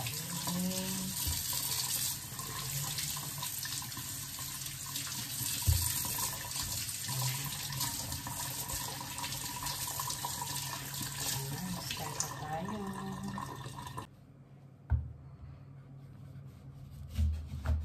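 A kitchen tap runs steadily as fruit is washed under it for juice, a continuous close splashing stream with a few clattering handling sounds, which cuts off near the end, followed by a brief knock.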